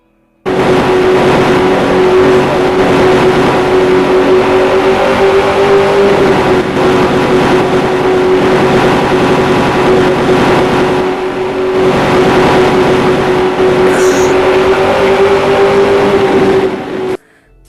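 Game-mod 2013 Bugatti Veyron Vitesse engine held at a loud, steady rev for about sixteen seconds, a sustained droning tone with slight pitch swells, starting and stopping abruptly, no voices.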